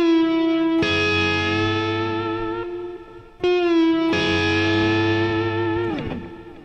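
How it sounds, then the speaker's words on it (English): Pedal-steel-style country lick on electric guitar played with pre-bends: two long sustained, distorted chords with chorus and reverb, the second struck after a brief gap and bending down at the end, loud and close with no talk. "It's like a little pedal steel lick."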